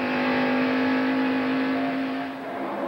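A race car engine screams at around 8,000 RPM during the 1989 AC Spark Plug 500, a sustained high-pitched whine held steady and loud, with no voices over it.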